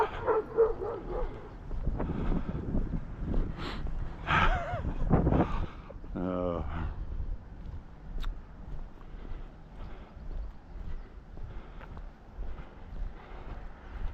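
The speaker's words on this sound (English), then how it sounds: "Now that was a dog that would attack you" A tied-up dog barks and yips in a run of sharp, close barks early on, then whimpers, heard outdoors on a walk in Maine while people talk now and then.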